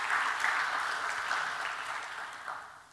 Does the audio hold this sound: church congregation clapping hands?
yes